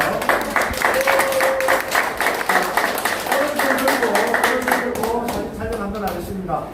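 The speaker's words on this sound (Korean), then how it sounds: "경수님들께 박수를 보내면서" An audience at a Korean campaign support rally applauds steadily and loudly, with a voice speaking over the clapping toward the end.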